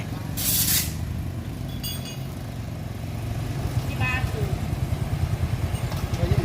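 A Honda Wave motorcycle engine hums steadily, then grows louder and rougher as the bike pulls away, while people talk nearby.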